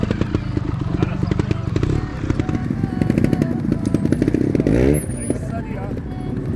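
A motorcycle engine hums and revs during a riding lesson, a close, steady mechanical drone with shifting pitch under an instructor's continuous talk.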